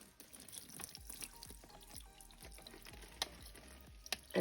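Water poured from a jug onto Reptichip coconut substrate in a reptile enclosure, a faint soft trickle with a series of small dripping, soaking pulses and a couple of sharper splashes near the end.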